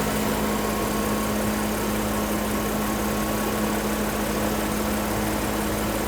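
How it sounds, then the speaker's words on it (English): A 2007–2013 BMW X5 engine idling during transmission pan work, a steady, loud, unchanging drone with constant low rumble throughout. "So with the engine still running, take this fill plug out."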